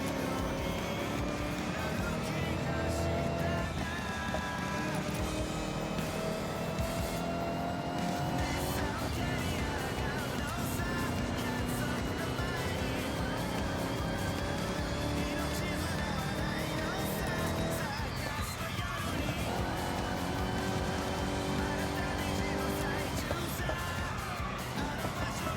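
A car engine revs and roars through a Forza Horizon 6 race, with gear shifts and tire noise under game music and a player talking.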